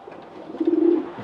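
A racing pigeon at a Polish loft coos once, a close, low, drawn-out rolling call that swells near the end, with no talk over it.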